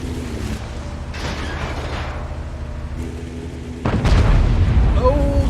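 A tank shell strikes in a tank video game featuring the T28, giving a heavy booming explosion near the end after a steady rumble of engine noise and mechanical clatter, loud and close.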